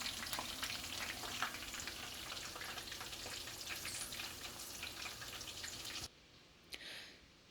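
Steady crackling and sizzling of spices frying in hot oil for a kadhi tempering, continuous and close, then it cuts out abruptly near the end leaving a faint brief clatter.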